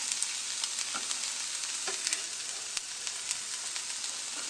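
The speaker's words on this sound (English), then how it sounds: "I just put the onions and the peppers in there and I let them sweat" Onions and peppers sweating in oil in a pan give a constant, even hiss of frying with faint scattered crackles, close and steady throughout.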